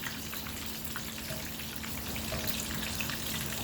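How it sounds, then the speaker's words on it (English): Water hits a hot pan of shrimp fried rice, setting off a faint, steady crackling sizzle with small popping spatters throughout, heard close and alone. "I'll just add like a little bit of water to the side and then just kind of mix that in"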